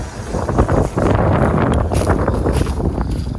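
Loud gusty wind roars against the microphone, a constant low rumbling buffet with rustling bursts throughout.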